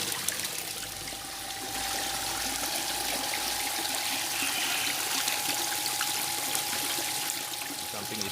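Water runs steadily into a koi pond fitted with a skimmer, a continuous rushing, splashing flow close by that holds at an even level throughout, with no talking over it.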